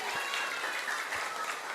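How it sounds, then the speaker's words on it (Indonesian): Audience applause for young people at a Maulid Nabi gathering in a mosque, a brief, steady wash of clapping at moderate distance with no voices over it. "Tepuk tangan buat anak muda kita semuanya."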